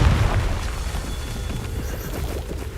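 Confringo explosion spell from the video game Hogwarts Legacy, a deep booming blast at the start that trails off into a rumbling, crackling decay.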